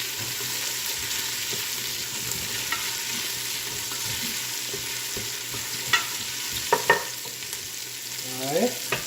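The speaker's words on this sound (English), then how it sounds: "So you want to cook the onions till they're a little translucent, almost see-through." Onions and garlic sauté in a pan for a classic Italian Sunday dinner, a steady close sizzle with scattered scraping stir clicks and a few sharper utensil knocks near the end.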